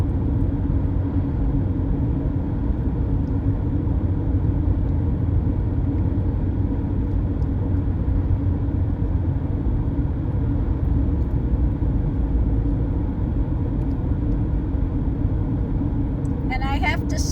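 A lifted Toyota Prius V cruises along a road, heard from inside as a steady, loud rumble of engine and road noise that runs unbroken throughout, with a voice talking over it.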